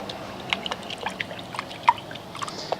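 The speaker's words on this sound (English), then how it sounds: "So we're going to use 1 ounce in our 3-gallon bucket, and we'll just pour that in like that" Gyeon Q2M Bathe car soap, a thin unscented liquid, being poured into a 3-gallon bucket, heard as faint trickling with a few small drips and splashes, quiet and close, with no talking.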